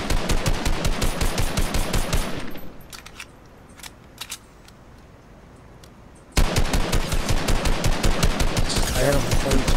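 Rapid bursts of gunfire in a shooting video game, loud and dense at the start, dropping to a few sparse shots, then resuming as sustained automatic fire with voices faintly underneath.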